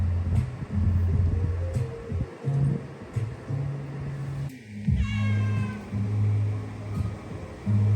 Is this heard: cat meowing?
yes